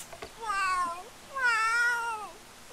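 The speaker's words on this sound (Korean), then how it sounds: "고양이가 왔는데?" A cat in the video game The Sims 3 gives two clear, drawn-out meows, one after the other with a short pause between, close and alone with no talk over them.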